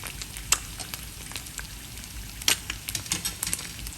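An egg and French toast frying in a pan give a close, steady sizzle sprinkled with sharp crackling pops, with no talking.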